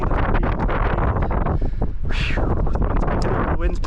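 Strong wind buffets the microphone on a mountain hike in Snowdonia, a constant loud roaring rumble with no letup, gusting throughout.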